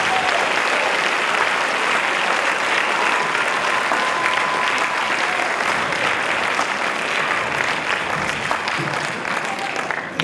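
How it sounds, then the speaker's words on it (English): An audience applauds steadily for student band performers leaving the stage at a 7th and 8th grade school concert, a dense, even wash of clapping lasting the whole stretch with no talk over it. "Let's give them another round of applause as they leave the stage."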